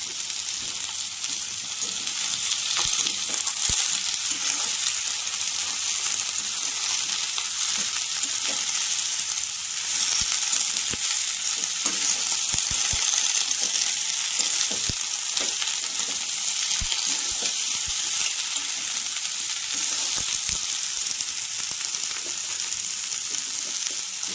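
Cauliflower, carrot and potato fry in a pan with a steady, close, crackling sizzle, sharp pops and spatters breaking through now and then over the whole stretch, with no voices.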